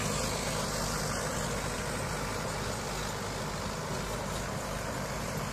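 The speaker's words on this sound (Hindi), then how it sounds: "सुक्के की खेत की जुताई होते हुए भाइयों" Tractor ploughing a dry, dusty field in second low gear, a loud, steady, heavy diesel engine drone throughout with no talking.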